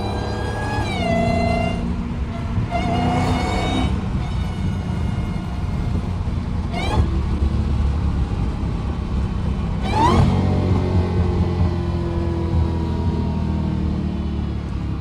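Dodge Hellcat engine driven with the hood removed, a loud continuous supercharger whine over a deep rumbling exhaust, with rising and falling pitch as the car accelerates through gears in traffic.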